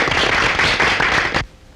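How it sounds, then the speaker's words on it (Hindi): Dense crackling applause from a live audience at a staged performance, loud and continuous for over a second before cutting off abruptly to near silence. "तालियां!"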